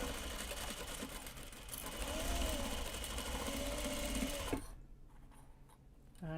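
A serger sewing machine stitches fabric grime guards with a steady, fast mechanical whir that holds for several seconds, then stops abruptly, leaving a quiet room with a faint voice.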